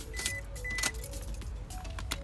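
A car's keys jangle and clink as they slide into the ignition, with a few bright metallic bursts close by against a quiet cabin hum.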